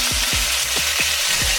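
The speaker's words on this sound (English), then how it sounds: "Did you hear the sizzle on that?" Loud, steady sizzling of noodles frying in a hot pan, with a few rhythmic clunks of stirring underneath.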